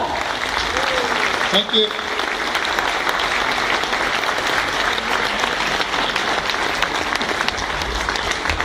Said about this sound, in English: Give him a big applause, come on!